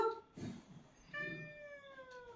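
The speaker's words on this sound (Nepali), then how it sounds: "अनि म्याउ गर्यो हो" A cat meows twice nearby, a short cry followed by a longer, drawn-out meow with clear rising and falling pitch.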